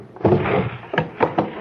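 A drawer is opened as a radio drama sound effect: a wooden sliding scrape followed by three short knocks and thuds close by.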